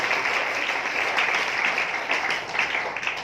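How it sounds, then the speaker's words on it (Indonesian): Steady, dense clapping from a church congregation during an evening prayer service fills the whole stretch, loud and close without a break. "berikan tepuk tangan kepada Tuhan Yesus"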